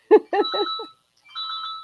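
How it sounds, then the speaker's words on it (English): A telephone rings with short electronic warbling tones, a beeping ringtone pattern heard close and clear, a brief burst followed by a pause and another ring. "Oops, somebody's ringing there. Yeah, somebody's ringing me."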